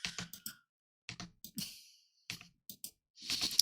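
A new mechanical keyboard clatters during a Project Diva rhythm game, its close, crisp keystrokes falling in quick bursts and single taps with short pauses between.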